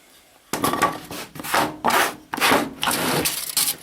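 A hand saw cuts a piece of wood for a homemade soap cutter, sounding as about six loud, close, rasping strokes in a steady back-and-forth rhythm after a brief quiet start.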